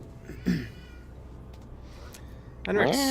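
A cat meows near the end, loud and close, with a rising, wavering call, set in a Warhammer 40k: Rogue Trader game session; a brief voice-like sound appears earlier.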